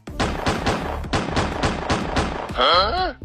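Roughly eight loud gunshots fired at a bulletproof car's windows ring out in a rapid, evenly spaced volley, followed by a short wavering whine.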